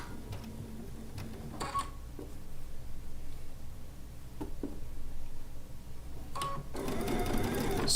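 A sewing machine runs in short bursts, stitching a seam on a log cabin quilt top, with light mechanical ticking and clatter, the motor rising louder near the end.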